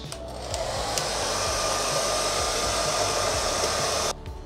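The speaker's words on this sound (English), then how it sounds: "Now we'll give it a quick once over with a hairdryer." A hair dryer roars steadily at close range for about four seconds, then cuts off abruptly, leaving quiet.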